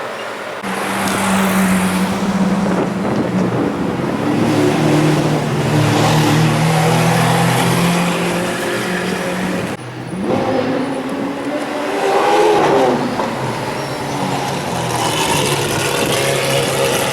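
A loud car engine roars close by, its harmonics rising and falling as it revs and pulls away, steady and strong throughout.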